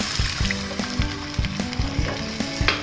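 Shrimp paste (bagoong) sizzles in a frying pan as water goes in, giving a close, steady crackling fry with repeated scraping knocks of a utensil stirring against the pan.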